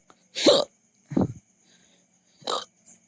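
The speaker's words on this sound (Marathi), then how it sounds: "उचकी लागली" Several short hiccup-like bursts spaced irregularly over about three seconds during a late-night birthday gathering, each a sharp close gulp, with one softer trailing sound at the end.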